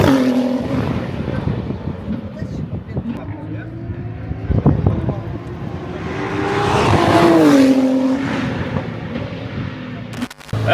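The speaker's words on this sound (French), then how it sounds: "Allez mon Pierrot, mets du gaz" A Praga race car accelerates hard on the Le Castellet circuit, its engine rising and falling in a loud continuous roar that swells toward the end, with excited voices talking over it.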